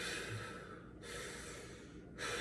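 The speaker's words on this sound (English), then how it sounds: "Trying to take big breaths." A person takes slow, deep breaths while holding a hip flexor stretch during a warm-up, giving a couple of long airy inhales and exhales with short pauses between them, close and alone.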